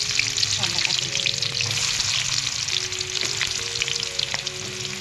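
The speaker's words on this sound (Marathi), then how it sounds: "हे बघा तेल गरम झालेलं आहे, कांदा टाकून घेऊया." Onions fry in hot oil in a large batch with a loud, dense, continuous sizzle and crackle, close up, with faint background tones and no clear talking.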